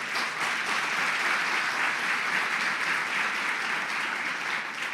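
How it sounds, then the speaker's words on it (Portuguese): A church congregation claps together in sustained, dense applause that stays steady and even throughout. "dê um aplauso a Jesus."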